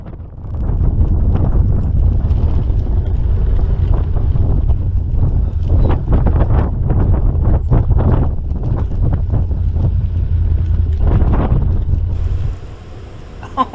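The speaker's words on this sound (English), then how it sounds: "I just wanted to point out how strong the wind was blowing." Strong wind in Jawbone Canyon roars and buffets against the microphone in a continuous, loud, gusty rumble that eases slightly near the end.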